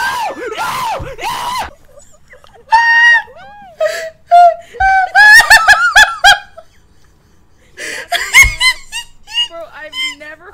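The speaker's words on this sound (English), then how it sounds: "I've never heard so much screaming." Several people scream and shriek in loud, shrill, close bursts that come in clusters with short pauses between them, some of the cries sounding almost like honking.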